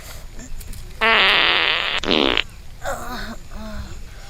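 A loud, buzzy, drawn-out fart lasts over a second, followed by a shorter rasping one and a softer brief toot, with faint background noise in between.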